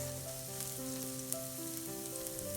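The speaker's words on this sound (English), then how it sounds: "Fry the garlic and ginger until they lose most of their moisture" Garlic and ginger frying in two tablespoons of vegetable oil, a steady close sizzle with a faint crackle that holds evenly throughout, under a quiet background hum.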